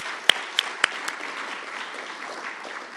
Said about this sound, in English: let's give Robert and SmartCap another round of applause, please.